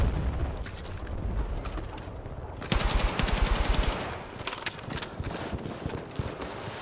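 Gunfire in a first-person shooter match on a Grand Bazaar map, rattling in fast automatic bursts at a steady moderate level, with a denser, louder stretch in the middle.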